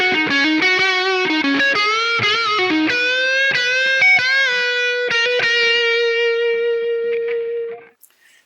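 Distorted electric guitar played through the neck pickup of a blue Ibanez into a Line 6 Helix, a melodic run of picked notes ending in a long sustained note that rings out and fades to silence, loud and alone.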